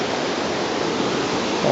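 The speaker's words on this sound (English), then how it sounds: "You can see the waterfall across the way. It's way stronger than it usually is." A waterfall across from a cabin, running far stronger than usual after a flood, gives off a steady broadband roar that holds constant throughout with no pauses.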